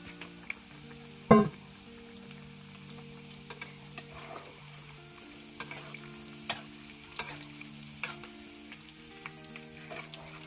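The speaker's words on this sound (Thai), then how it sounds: "แล้วเราจะเอาปลาหมึกมาทอดต่อแล้วค่ะสิ" Squid fries in hot oil with a soft, continuous sizzle punctuated by scattered sharp pops and crackles, one louder knock early on, and no talking.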